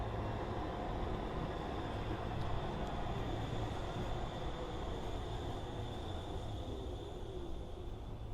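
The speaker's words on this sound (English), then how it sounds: "Running through here as well, they've got one of the greatest tram systems in the world." Tram rolling through Trafford Park, a steady continuous rumble with a high whine held throughout at moderate level, no voices over it.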